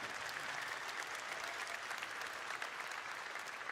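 Live audience applause fills the space, a dense, even patter of many hands clapping at steady loudness for a few seconds with no voices on top.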